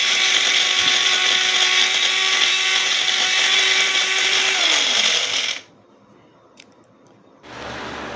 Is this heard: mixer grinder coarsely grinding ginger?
yes